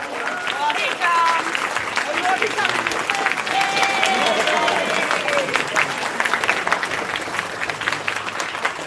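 Convention audience at a closing ceremony applauding at length, a sustained dense patter of many hands with scattered voices and cheers mixed in, holding steady throughout.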